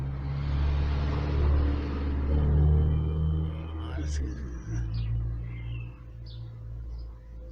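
During an ABS sensor test on a 2006 VW Golf 2.0 TDI with an ABS fault, a wheel is spun at a steady speed, giving a close, low continuous rumble that eases slightly midway, with a voice speaking over it.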